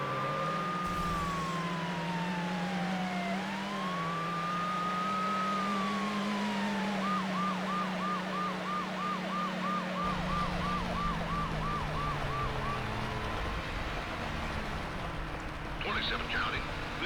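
Police sirens from a driving video game pursuit, a loud wailing siren sweeping up and down that switches to a rapid yelp, over a constant low engine drone.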